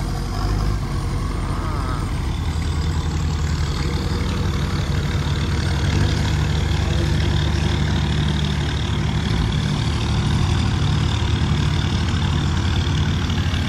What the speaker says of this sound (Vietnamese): Đó, xe cuốc cũng đi ra luôn các bạn.